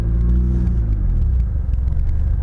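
A Mitsubishi Lancer Evolution GSR fitted with an ETS intake drives past, its engine a loud, steady low rumble with a slight rise and fall in revs and no voices.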